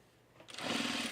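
A sewing machine starts up partway through and runs steadily, stitching a small rolled hem on a halter top. The motor hum is close and grows from quiet to a sustained, moderately loud whir.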